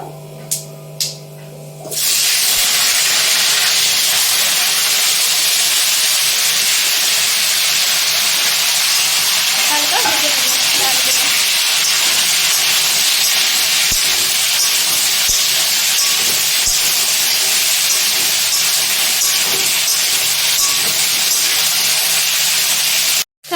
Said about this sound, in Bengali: তেলটা গরম হয়ে গেছে এর মধ্যে এবার দিয়ে দিলাম জিরে ফোড়ন তো এবার এর মধ্যে দিয়ে দেবো আলু এবং ফুলকপিগুলো